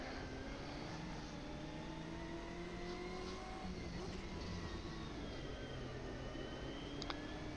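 A race car engine in an Automobilista racing game drones and climbs in pitch while accelerating around a dirty circuit, steady and loud throughout with overlapping gear-driven whine, no talk.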